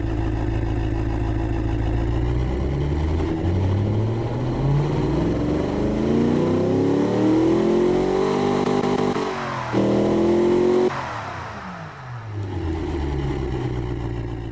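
A 6.6 liter V8 swapped into a Japanese kei car in BeamNG.drive, rumbling loud and close as it revs up through rising pitch, drops, surges again and settles back toward idle, with no talk over it.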